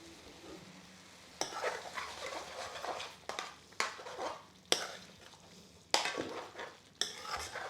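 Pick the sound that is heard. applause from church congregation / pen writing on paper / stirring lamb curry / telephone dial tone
stirring lamb curry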